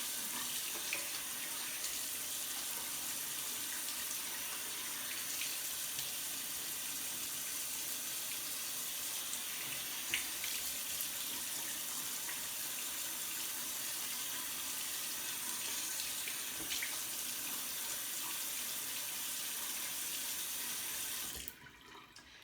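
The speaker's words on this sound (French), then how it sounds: "Et là, je ferme le robinet" Water runs steadily from a bathroom sink tap as lukewarm water flows during a skincare routine, a soft, continuous hiss that fades slightly at the very end.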